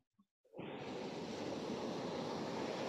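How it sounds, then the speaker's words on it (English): Ocean waves around an island: after a brief near-silence with a couple of faint knocks, a broad, steady roar of surf rushes in and holds, loud and unbroken. "You've got some lovely ocean waves noises"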